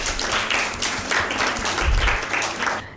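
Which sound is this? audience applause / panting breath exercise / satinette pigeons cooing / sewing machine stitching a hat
audience applause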